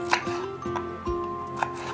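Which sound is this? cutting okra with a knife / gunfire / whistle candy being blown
cutting okra with a knife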